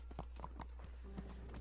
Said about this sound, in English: You and your fancy horse, Mr. Capon.